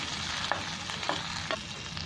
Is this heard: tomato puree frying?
yes